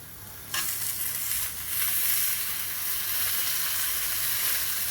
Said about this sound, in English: Right, that is ready to be griddled. Let's do it. Skin side down first.